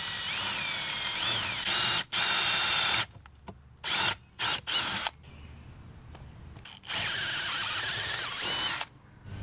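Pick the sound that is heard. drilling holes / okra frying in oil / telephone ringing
drilling holes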